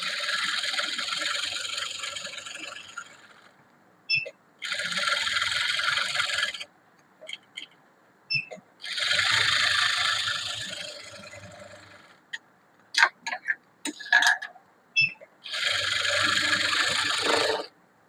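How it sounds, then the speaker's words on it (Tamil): A sewing machine stitches around a blouse in several bursts of steady whirring, separated by short pauses and a few light clicks and taps, close by with no talk. "இப்போ நம்ம சுற்றிலும் தையல் போடலாம்"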